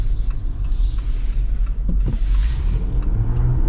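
A 2025 Jeep Wrangler Rubicon Xtreme Recon on big tires pulling away from a stop: a loud, deep engine roar builds under cabin rumble, with brief creaks and clunks partway through.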